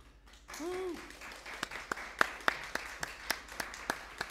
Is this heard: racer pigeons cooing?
no